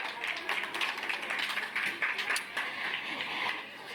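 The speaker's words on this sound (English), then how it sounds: "A round of applause, please." An audience at an awards nominees announcement at Park 27 applauds, a dense, steady patter of many hands clapping that carries through the whole stretch at moderate distance.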